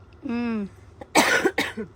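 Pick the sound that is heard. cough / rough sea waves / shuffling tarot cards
cough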